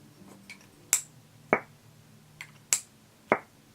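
A Becca lipstick case's magnetic closure snaps shut repeatedly: sharp, close clicks, a few louder ones alternating with fainter taps, spaced irregularly about half a second apart over a quiet background.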